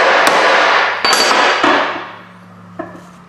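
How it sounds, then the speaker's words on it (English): A hammer taps a U-joint clip on a vehicle driveshaft, giving three or four sharp metallic clangs spaced over a few seconds, each ringing briefly before fading, with no talk. "Just set her on the edge of that hammer. Give her just a light tap."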